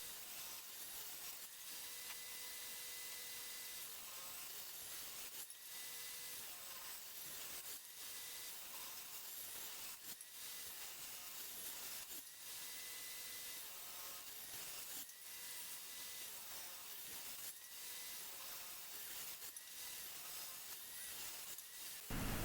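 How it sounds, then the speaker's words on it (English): Cherry wood boards are ripped in half on a saw for a cutting board, giving a continuous loud, harsh cutting roar with brief dips every couple of seconds as each pass ends. "At this point I'm ripping all the cherry pieces in half because they're going to be half as thick as the sapele pieces in this board."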